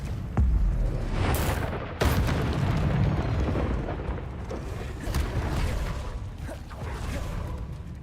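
Fiery spell blasts in Hogwarts Legacy, with two heavy booming bursts near the start and a rumbling, crackling roar that carries on loudly through the rest of the clip.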